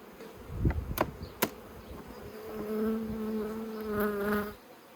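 Honey bees buzz steadily inside a hive during queen rearing, a close droning hum with a few sharper knocks and clicks early on.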